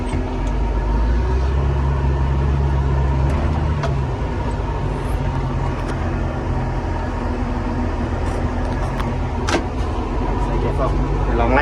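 A Caterpillar 950 wheel loader's diesel engine pulls hard in gear, a loud close rumble with a strong low drone that eases slightly after a few seconds, steady and continuous with faint rattles on top.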